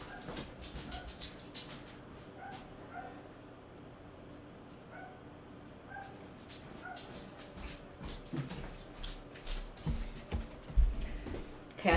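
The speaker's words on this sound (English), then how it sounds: "I think I'm gonna go out with my dogs for a minute." Several dogs yip, bark and whimper at moderate distance, in short scattered bursts that grow busier toward the end, with a bird calling now and then and faint room noise throughout.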